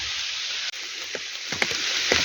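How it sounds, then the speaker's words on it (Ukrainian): Steady rain patters down through a forest canopy onto leaves, a dense even hiss with a few louder drops landing close by, and no voices. "дощ чим раз сильніший і сильніший"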